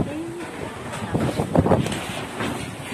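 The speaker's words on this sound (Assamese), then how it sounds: "বেলেগ বতাহ ধুমুহা আহিছে" A strong night windstorm around a shop's store room: a rushing, gusty roar that swells and buffets the microphone, with a voice briefly audible.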